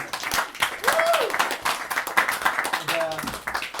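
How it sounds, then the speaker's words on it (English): A small parlor crowd at a poetry event claps steadily for the poet Jason Baldinger. Overlapping claps run throughout, with voices and a rising, whoop-like call rising through the applause. "Ladies and gentlemen, another round of applause for Jason Baldinger."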